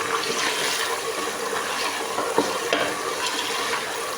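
Loud, continuous sizzling of about half a kilogram of beef frying in a pot, broadband hiss with a few soft knocks from stirring, no voices.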